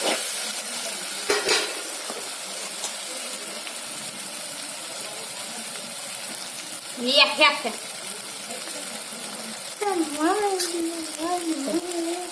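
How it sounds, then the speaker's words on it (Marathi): Turmeric sizzles in hot oil in a pan on a home stove as a steady, fairly loud frying hiss with a couple of brief clinks, and a voice briefly speaks near the end. "तेलावर टाकलं. थोडंसं परतून घेऊया."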